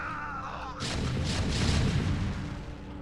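Siege tanks fire in StarCraft: Brood War, heavy booming artillery blasts rolling out in a dense, loud barrage after a brief quieter moment.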